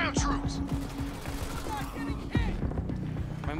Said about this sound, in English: Under fire from ground troops.